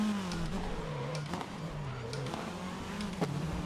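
Race cars from the video game GRID jostle on a narrow track, their engines droning and revving steadily up close, with brief shifts in pitch as the cars accelerate and brake.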